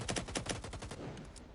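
Gunfire in a video game match, a rapid burst of automatic shots fired in a tight rhythm, loud and close, then trailing off into a softer rattle.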